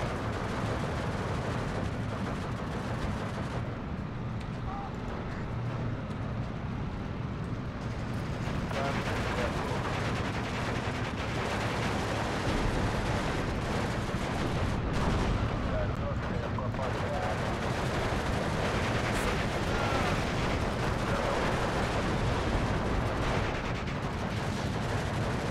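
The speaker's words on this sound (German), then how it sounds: "die Mörser schießen da jetzt" Mortar and artillery fire in the WWII strategy game Steel Division 2 booms steadily throughout, a dense continuous rumble of distant shots and impacts beneath someone speaking German.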